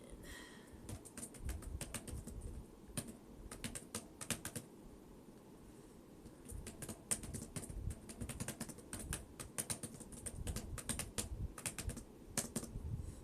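Typing on a computer keyboard, close and fairly quiet, in uneven bursts of quick key clicks with short pauses between, no voice over it.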